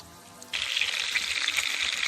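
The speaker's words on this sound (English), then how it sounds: "can you see the 2 cloves of garlic and the green pepper frying?" After a quiet moment, a loud, steady sizzle of two garlic cloves and green pepper frying in hot oil bursts up and continues crackling.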